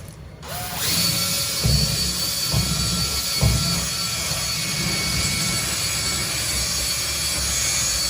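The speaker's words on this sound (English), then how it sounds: "then you connect this end to a drill, and it spins it like so" A power drill spinning a dryer vent cleaning brush whirs steadily and loudly at close range, a constant high mechanical whine with brief clunks early on.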